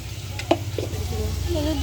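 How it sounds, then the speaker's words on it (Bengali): Potatoes fry and get stirred in a pan, with a steady sizzle under a low background hum and a couple of brief scrapes of the spoon against the metal. "আলুটা আরেকটু ভাজা হবে"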